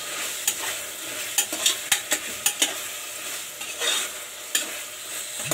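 Chopped tomatoes and turmeric sizzle and fry in a pan while a utensil stirs, with sharp scraping clicks every second or so over a steady frying hiss, close and fairly quiet.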